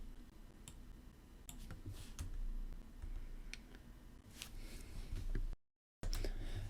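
Small screws being unscrewed from a Walkera Runner 250 racing drone: faint, sparse ticks and clicks spread across the span, with a brief dropout near the end.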